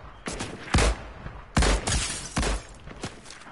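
Bursts of gunfire from a PS4 shooter game ring out in several loud, closely spaced volleys, close and punchy with short gaps between them.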